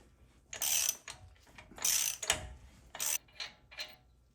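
A ratchet working on a 36 mm axle nut of a lowered truck gives several quick bursts of clicking, close and crisp, separated by short pauses.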